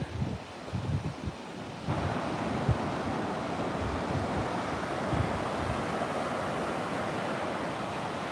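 Pacific Ocean surf rolling onto a lonely Oregon beach, a steady, loud wash of breaking waves with wind rumbling across the microphone throughout.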